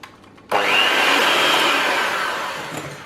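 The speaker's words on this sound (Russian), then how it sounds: "И хорошо все взбиваю миксером." An electric hand mixer beats eggs and sugar for a cake batter, switching on abruptly with a loud, close whirring whine that holds steady for a few seconds and slowly eases, with no voices.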